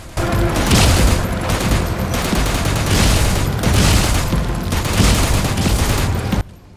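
Sustained heavy gunfire rattles in the Metal Gear Solid V boss fight against the Man on Fire, loud and dense with rapid overlapping shots and booms, running continuously before cutting off abruptly.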